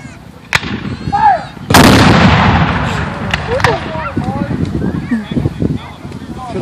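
Artillery crews firing cannons at close range: one heavy blast booms and rolls away into a long rumble, with sharper reports nearby, and people talk excitedly throughout.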